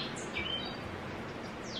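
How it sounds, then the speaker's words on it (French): Morning birdsong in the Costa Rican forest: several faint, brief chirps and whistles drift over a steady hiss of ambient noise, with no talking. "Vous les entendez, ces oiseaux."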